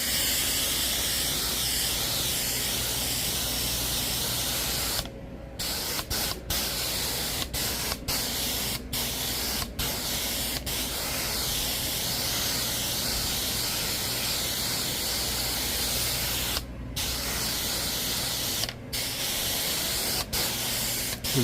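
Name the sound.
carpet cleaning pre-spray being sprayed on carpet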